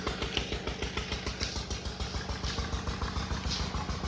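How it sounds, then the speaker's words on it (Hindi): A Lister engine runs the cane-crushing machinery at a rural Indian jaggery works, thumping in a steady, rapid, even beat with a clattering mechanical edge, close and continuous. "इंजन, ये लिस्टर इंजन है।"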